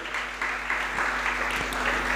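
Audience at a Jain religious discourse clapping in approval, a steady dense patter of many hands filling the space without pause, fairly loud and even throughout.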